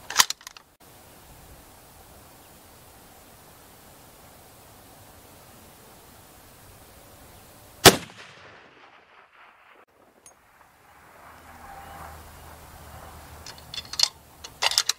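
Rifle shots ring out at a long-range target on a tripod setup, with a sharp crack midway and scattered fainter reports near the end, set against a quiet outdoor background.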